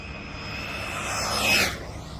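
An Arrma Mojave 6s RC car driving at high throttle gives a rising electric whine that swells to a loud peak and then fades, like a fast pass close by, with no talking.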